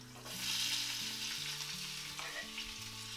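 Chopped onion is added to a pot and fries, giving a soft steady sizzle that swells and then settles, with background music playing over it and no voices.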